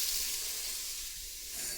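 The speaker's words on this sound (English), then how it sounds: "So we'll give that a good saute." Beef sautés in a pressure cooker with a steady, close, bright sizzle and hiss that holds evenly throughout, without any speech.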